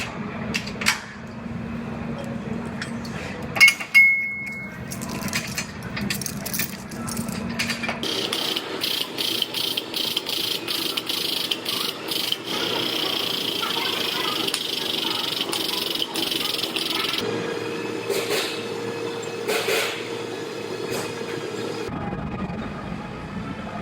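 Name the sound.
frame bench pulling a Jeep frame to square it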